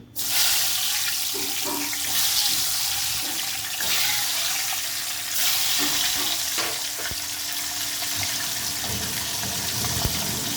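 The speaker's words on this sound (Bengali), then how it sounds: "কড়াইতে তেল বসিয়ে দিয়েছি, তেল গরম হয়ে গেছে। এখন আমি ভেজে নেব ডিম।" Eggs fry in hot oil in a wok for a Bengali mutton dak bungalow dish, a loud, steady sizzling hiss that starts abruptly and carries on with faint crackles throughout.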